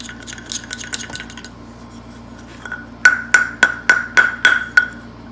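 Chisel work cleaning waste from a wood mortise: a run of six sharp, evenly spaced mallet strikes on the chisel, preceded by lighter scattered taps and scraping, close and fairly loud.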